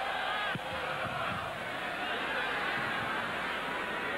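Dense, steady roar of a large football stadium crowd at a 1991 Copa América match between Argentina and Chile in Chile, a continuous wash of cheering and chanting with a brief sharp sound near the start.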